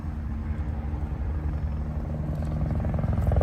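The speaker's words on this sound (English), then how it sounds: "This is one of them manhunt helicopters right here. It's coming back again. He's circling." A manhunt helicopter circles overhead at a vigil, its rotor thumping in a close, continuous low rumble that grows slightly louder toward the end.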